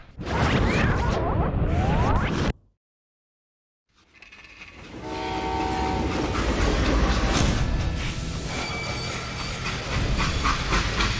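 Freight train in the Western shooter Call of Juarez: Gunslinger: loud rumbling rail noise cuts to brief silence, then returns as a steady rolling roar with squealing, whistle-like tones and clattering wheels.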